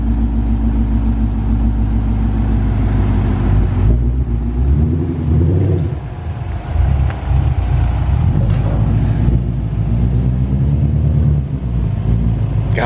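A Ford GT350 with a JLT intake and ARH exhaust runs hard on a dyno, a loud, sustained engine drone with pitch shifts as it revs and eases back.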